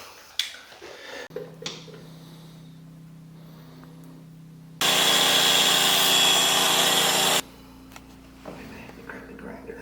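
A power tool cuts material during a bathroom remodel, a loud steady whine lasting a few seconds in the middle, with quieter workshop noise and brief voices before and after.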